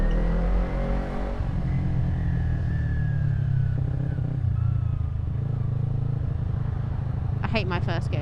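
A motorcycle pulls away in first gear through rainy traffic beside lorries, its engine a steady low rumble with rising revs close by, wind and rain noise throughout and a brief clatter near the end.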